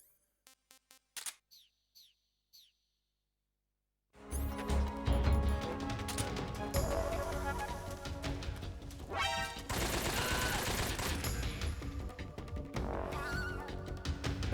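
AK rifle gunfire in a stealth action video game: a few sparse clicks and shots, a short quiet gap, then sustained loud automatic bursts with heavy game action continuing to the end.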